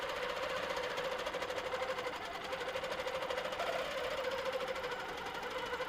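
A sewing machine stitches a quilt around a circle ruler with a fast, even, pulsing mechanical whirr, heard close and alone at moderate volume.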